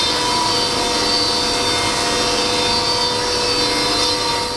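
Shop dust collector roaring at close range with a loud, steady broadband rush, running throughout while a 1/4 inch pass is taken on a woodworking machine.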